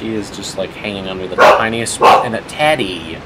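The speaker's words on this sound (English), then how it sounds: "Sorry about my dogs." Pet dogs named Dolly and Teddy bark indoors in sharp, loud bursts of yips and bow-wows, several barks in quick succession, mixed with someone speaking over them.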